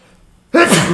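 A single loud, close sneeze bursts out after a short quiet lead-in, sharp and breathy, ending abruptly.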